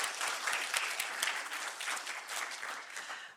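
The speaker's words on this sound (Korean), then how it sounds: "감사의 박수 하겠습니다" A church congregation gives a short burst of applause in thanks during a Sunday service, dense, even clapping from many hands filling the room for a few seconds, with no talking over it.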